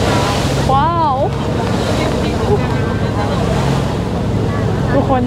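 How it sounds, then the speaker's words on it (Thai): A speedboat pounds across rough sea waves off Ko Larn near Pattaya, its engine droning loudly under constant wind and splashing water, with excited voices briefly heard over it. "แต่ตรงนี้แบบคลื่นมันแรงมาก"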